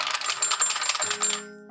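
Bright, bell-like notes from a toy alligator xylophone ring out, about eight quick struck tones in a steady run before fading into a lingering ringing tail.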